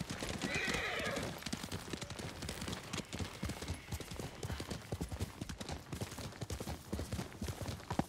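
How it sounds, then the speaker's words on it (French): A horse in the Ghost of Tsushima video game gallops with rapid, steady hoofbeats throughout, and a whinny rises near the start over the drumming hooves. "je voulais sauter avec le cheval, mais ça n'existe pas dans le jeu"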